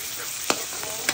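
Shrimp fry in a pan with a soft, steady sizzle while a utensil stirs them, giving a few short scraping clacks against the pan.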